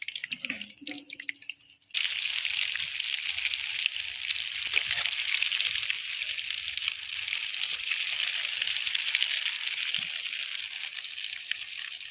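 Kollu suzhiyam, a sweet made from horse gram, dropped into hot oil and frying steadily with a dense, continuous bubbling sizzle that starts abruptly and stays loud and close throughout.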